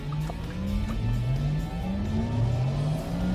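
A Porsche Taycan electric car accelerates with its added synthetic drive sound, a smooth tone steadily rising in pitch over a low hum, close and continuous without pause.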